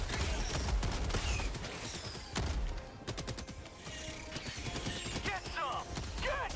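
Gunfire from a weapon in Helldivers 2 during a bug fight, loud and continuous with dense crackling bursts and sharp repeated shots over clattering game effects and chirping creature noises.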